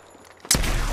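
Sudden loud burst of gunfire erupts about halfway through a match of the video game Apex Legends, following a quiet stretch, then continues as sustained, dense shooting noise to the end.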